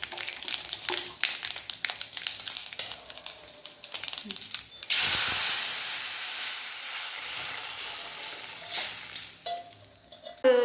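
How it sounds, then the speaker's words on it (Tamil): Loud sizzling and spattering of hot oil as curry leaves and mustard seeds drop into the pan, a burst of hiss that slowly settles, with voices nearby. "கடுகு பொரிஞ்சதும் கருவேப்பிலை சேர்த்துக்கலாம்"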